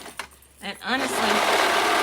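A sewing machine stitches two sides of a skirt together along the seam; after a brief spoken moment it starts up and runs in a steady, close, continuous whir.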